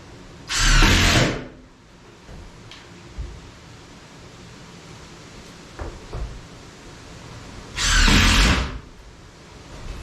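Power drill or screw gun driving screws into subfloor sheets during a tiny house build, two separate bursts of a few seconds each, loud and close, with a quiet room in between.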